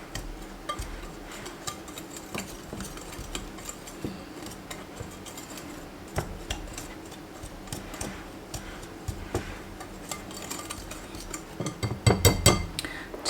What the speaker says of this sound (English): You're going to go ahead and give this a mix. Make sure it's mixed very well.